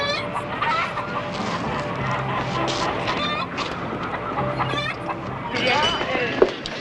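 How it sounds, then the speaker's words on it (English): Chickens clucking at a Western farmyard, a busy cluster of short fowl calls over a dense background with people talking. "Chickens."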